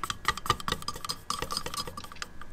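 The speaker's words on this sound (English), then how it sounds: "But you want to make sure you stir it thoroughly." Thorough stirring of brake caliper paint mixed with its reactor for a Dodge Charger, a steady run of close, quick scraping and tapping strokes against the container, with no voices.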